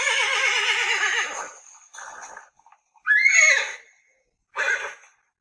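A horse whinnies loudly and close by, giving a long quavering neigh followed by shorter snorting bursts and a final brief whinny.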